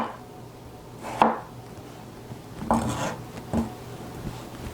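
A knife makes a few separate crisp cuts through fruit on a board: three distinct chops spaced about a second apart, fairly close, with a quiet background in between.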